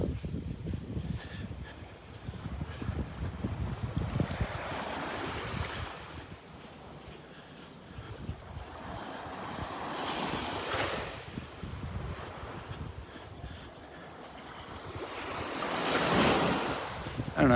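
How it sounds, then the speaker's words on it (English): Ocean surf rolls onto a beach in North Naples, Florida, while wind buffets the microphone on a morning walk into the wind; waves swell and break in slow surges over a continuous windy rush. "Walking directly into the wind now."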